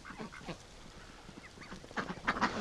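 Ducks that bathe in a tub give scattered quacks, a few soft calls early, then a louder close burst near the end, without speech.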